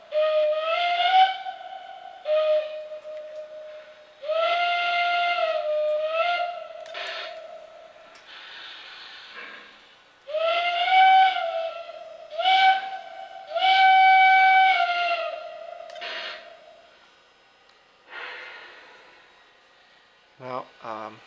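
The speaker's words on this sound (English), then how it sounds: "The whistle effects obviously are really cool." Sound-effect steam whistle from a Lionel Vision CC2 0-8-8-0 model steam locomotive, a chime-like multi-tone whistle blown in several long and short blasts with pauses between, fairly clear and close, ending with faint clicks.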